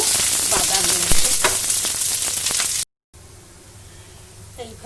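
Chopped onions fry in oil with garlic, a loud close sizzle with stirring clatters, then a brief cut to silence and a much quieter hiss afterward.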